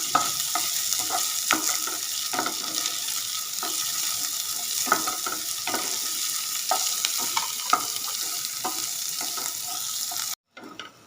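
Onions and potatoes stir-fry in a pan for a potato and capsicum dish, a close continuous sizzle layered with repeated scraping stirs, ending in a brief cut to silence and a short tail.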